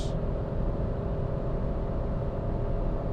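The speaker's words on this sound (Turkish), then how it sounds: "3 silindirlinin de o tatlı sesi geliyor açıkçası bunda." A steady, droning three-cylinder engine hum inside a Renault Clio 5 1.0 SCe climbing a hill, constant and moderately loud with no change in pitch and no talking.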